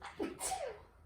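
A single quick, faint sneeze with a sharp breathy burst.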